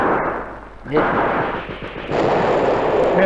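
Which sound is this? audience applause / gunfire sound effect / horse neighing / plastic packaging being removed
gunfire sound effect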